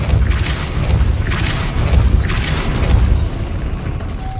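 Depulso force spell cast in the video game Hogwarts Legacy: repeated deep booming blasts over a dense, rumbling low background, each burst followed by a whooshing decay.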